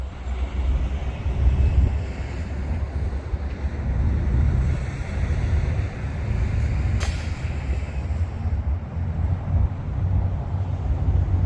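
Strong headwind buffets the microphone on an outdoor disc golf course, a steady loud rumble of wind noise with gusty surges throughout and no voices.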